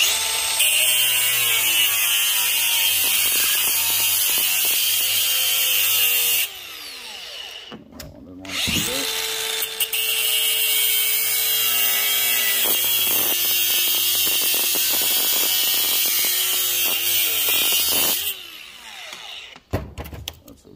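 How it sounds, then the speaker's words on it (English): An angle grinder cuts the top tab off a yellow brass hot water tank valve, a loud sustained high whine that runs for several seconds, breaks off, then resumes for a long second cut before stopping. "You just want to take your grinder and cut right here."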